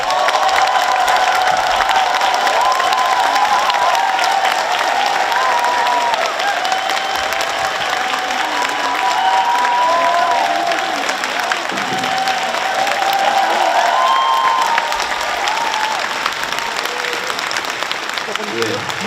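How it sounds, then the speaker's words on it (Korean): A large lecture audience in Daegu gives loud, sustained applause to welcome a speaker, a thick continuous roar of clapping with cheers and raised voices threaded through it. "큰 박수로 모시겠습니다"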